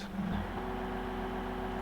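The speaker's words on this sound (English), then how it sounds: "that's the sugar beet harvester." A sugar beet harvester engine in the video game Farming Simulator 2013 drones with a steady, low mechanical hum and a faint whine on top. It stays constant and fairly close, with no talk.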